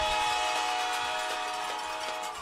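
A train passes near a high school football game, its whistle sounding a steady, sustained, harmonic-rich tone over the rumble of the cars, loud and close throughout.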